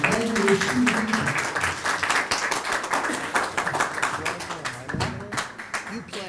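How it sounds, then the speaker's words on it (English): An audience claps together at a Jewish kumzitz music gathering, with rapid, uneven hand claps that gradually thin out, and voices talking faintly underneath. "Everyone, great clap for Reb Shmuel."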